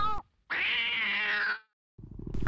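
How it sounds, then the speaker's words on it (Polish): A cat lets out a single long, loud meow lasting about a second, close and clear, with brief noise before and after. "Był tam także zaczarowany kot"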